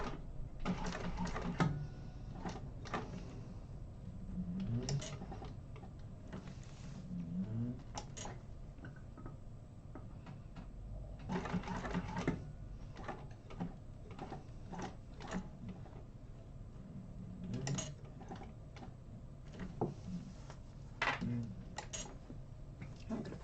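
A sewing machine stitching a sling pattern an eighth of an inch from a line, quiet rapid mechanical ticking in several short bursts separated by pauses.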